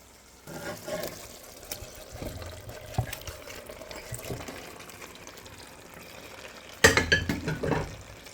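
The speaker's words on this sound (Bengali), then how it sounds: "আমার ভেজে রাখা চিকেনগুলো এর মধ্যে দিয়ে দিচ্ছি" Fried chicken pieces going into a pot of gravy for chicken teheri and being stirred, heard as soft wet stirring and light clatters, with a louder burst of utensil scraping near the end; quiet overall.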